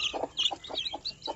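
Newly hatched native chicks, black-feathered from a Plymouth Barred Rock father, peep in a small yard with rapid high chirps, about half a dozen quick calls in a row, close and clear.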